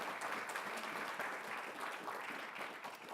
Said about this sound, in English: So round of applause for the universe's most supportive parents.